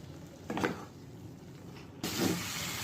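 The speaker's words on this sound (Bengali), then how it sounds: "কষানো চলছে।" Potatoes and cauliflower sizzle and hiss while being sautéed in a pan. The steady frying noise is broken by brief clatters of stirring, and a louder burst of hiss follows about two seconds in.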